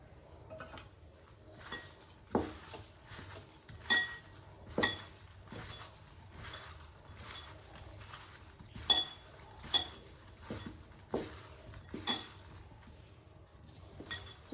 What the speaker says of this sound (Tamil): சோயா பீன்ஸ்க்கு எல்லாம் போட்டு நல்லா கலக்கலாம்.